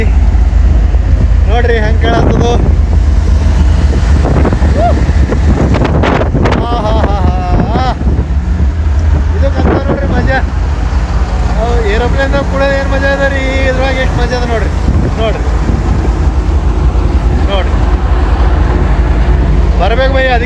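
A boat engine runs with a constant low, heavy rumble, buffeted by loud wind noise on the microphone, while voices talk intermittently over it.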